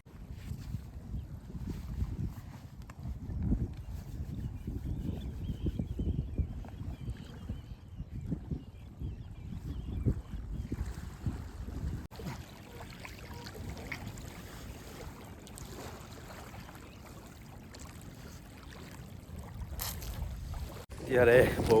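Strong wind buffets outdoors on a cold, foggy lake island campsite, a low rumbling roar of gusts across the microphone, fairly steady with surging bursts and faint lapping water underneath.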